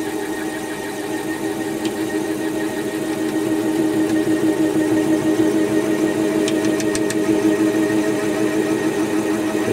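A metal lathe turns slowly with a knurling tool pressed against an oiled brass-coated workpiece, a steady mechanical hum and rumble that builds slightly louder after the start, with a few faint high ticks near the end.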